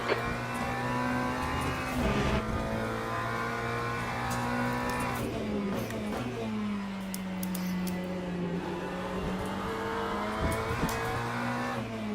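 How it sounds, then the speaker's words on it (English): Race car engines in the Le Mans Ultimate racing game, a high revving tone rising and falling as a faster car closes in and sweeps past around the middle, with tire squeal and steady loud engine drone throughout. "There's a faster car approaching."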